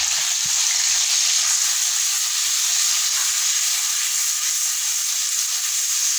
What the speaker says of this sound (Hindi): टमाटर डाल दें, इसमें ये मसाले भी डाल देते हैं, नमक, लाल मिर्च, गरम मसाला पाउडर।